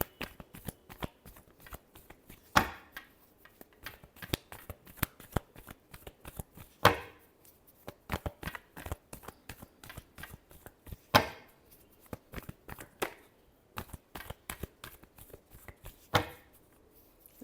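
Tarot cards being shuffled by hand, a long run of crisp riffles and slaps in irregular bursts, close and fairly quiet, with no talking over it.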